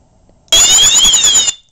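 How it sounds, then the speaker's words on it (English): A loud electronic fire alarm siren from a Wheelock multi-tone device wails for about a second, its pitch rising and dipping slightly before cutting off sharply. "That's the siren again."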